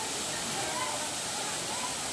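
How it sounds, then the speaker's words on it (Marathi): Steady broadband rush of falling water, constant and unbroken, with no distinct events standing out. "इथे वर्षाचं बारा महिने म्हणजे हे धबधबा चालू असतो"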